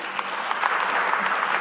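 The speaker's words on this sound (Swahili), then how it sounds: "Naomba kwa mara nyingine tuwapigie makofi." Audience applause at a national tax conference hall, a short steady patter of many hands clapping together at moderate distance, with no talk over it.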